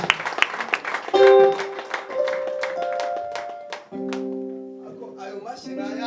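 A church congregation breaks into loud, rhythmic applause over sustained keyboard chords and a speaking voice, the clapping strongest at the start and easing as the music carries on.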